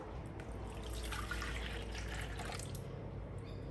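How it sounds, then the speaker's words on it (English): A cup of milk poured into a mixer, a faint, steady liquid trickle and splash with a low hum underneath, close and quiet. "the remainder of the milk, the 1 cup of milk, we're going to pour it into the mixer"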